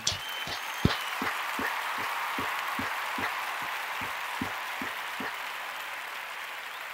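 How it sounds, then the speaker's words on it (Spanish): Steady, evenly spaced hand claps ring out over a hissy background, like a few people clapping in slow rhythm. "Un aplauso para Blanca, hombre."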